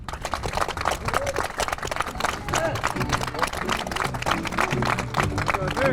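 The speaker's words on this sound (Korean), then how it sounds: "여러분 뜨거운 박수 한번 다시 보내주시면 고맙겠습니다" An audience claps at a candidate's launch event for the Gangwon governor race. Dense, rapid applause runs throughout, with voices speaking over it.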